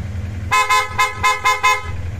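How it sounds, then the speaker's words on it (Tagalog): Five short, loud honks from a PIAA horn on a Kymco AK 550 Premium scooter in a quick, even rhythm, close by, over a low idling engine. "Busina niya PIAA."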